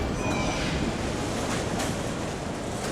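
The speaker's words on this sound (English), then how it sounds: "From here we go underground, entering the bright depths of the city, the subway, pride and joy of the capital." Subway train running through the Yerevan metro in Armenia, a steady, dense rumble of wheels and tracks that stays loud and even throughout, with no voices.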